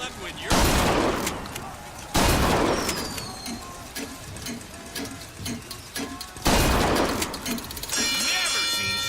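Bursts of heavy gunfire in the BioShock Infinite video game: three loud volleys fired in quick rapid series, separated by shorter scattered shots and chirpy ambient game effects, with a voice speaking briefly between them.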